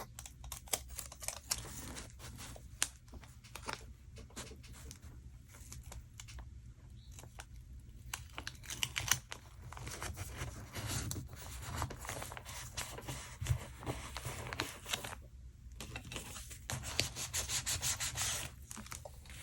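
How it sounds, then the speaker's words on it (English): Scotch tape is pulled and rubbed down onto paper in a junk journal, giving soft scratchy rubbing and crackling at close range. Faint taps and shuffles are scattered through it. "So I'm going to use this Scotch tape."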